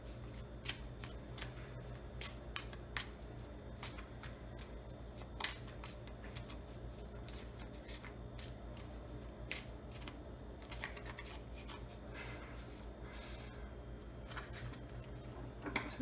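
Steady, rapid riffling of tarot cards being shuffled, crisp flicks repeating over a low hum, close and fairly quiet with no voices.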